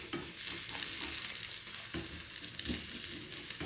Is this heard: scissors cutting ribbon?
no